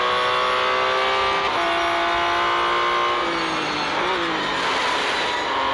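Porsche 911 (2021) engine droning steadily in the Real Racing 3 video game, a loud sustained tone with shifting pitch as it climbs and drops between gears, continuous throughout without talk.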